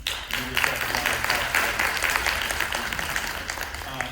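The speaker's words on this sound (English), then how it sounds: "if you all can give yourself a round of applause" A packed town hall audience applauds, dense steady clapping filling the room throughout, with a faint voice in the background.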